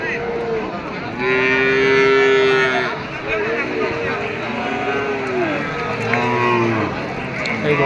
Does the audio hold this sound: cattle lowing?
yes